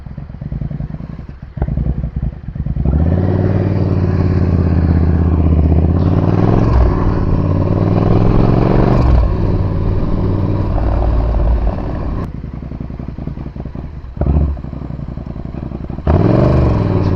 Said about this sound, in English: I just want to go around the block, take it back, make sure it stopped leaking oil